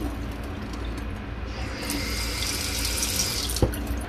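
Water runs steadily from a brand new, likely water-saving faucet into an old sink, a constant hiss up close with a single small clunk near the end and no talk.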